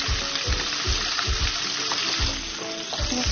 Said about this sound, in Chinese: 再给它稍微煎一下。